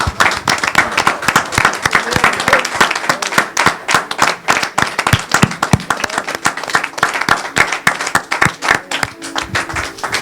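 A church congregation applauds and praises the Lord with steady, dense clapping that fills the whole stretch, loud and close, with faint voices mixed into the crowd.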